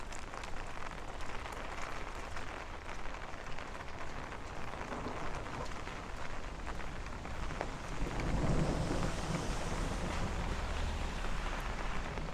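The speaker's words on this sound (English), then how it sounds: "You hear that thunder?" Heavy rain pours in a constant roar on a Brooklyn bike path in Bay Ridge, and a low rumble of thunder swells near the end beneath the downpour.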